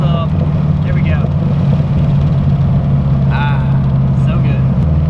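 A car engine fitted with a FiTech fuel injection system runs steadily with a deep, loud rumble throughout, while a person talks over it.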